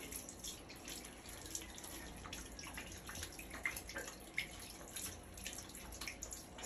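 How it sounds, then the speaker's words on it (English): Tap water runs steadily into a sink while hands are rinsed, a faint, continuous splashing with occasional small drips and clicks. "Rinse hands with water."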